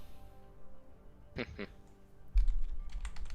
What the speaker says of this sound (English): just me typing that to her